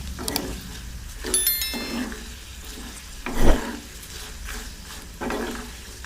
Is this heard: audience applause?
no